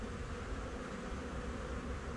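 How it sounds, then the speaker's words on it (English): A bee trapped inside a beekeeper's veil buzzes with a steady, continuous drone, very close to the ear and fairly quiet, with no voices. "Alright, I got a bee in my veil."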